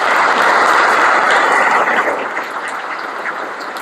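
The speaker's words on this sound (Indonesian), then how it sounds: "Tepuk tangan untuk Smart Motivation," A large audience of Gontor boarding-school students claps for Smart Motivation at a motivational public-speaking event, a loud dense wash of applause that fades slightly toward the end.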